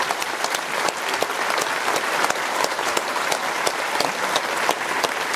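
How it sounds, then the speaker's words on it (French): Loud, dense audience applause at a stand-up comedy show in a venue, sustained clapping from a large crowd with no break across the whole stretch. "Monsieur Jimmy, applaudissements s'il vous plaît"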